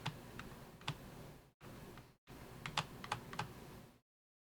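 Computer keyboard keys pressed in quick, uneven bursts of clicks and taps, close and fairly clear, with two short silent gaps between runs of typing.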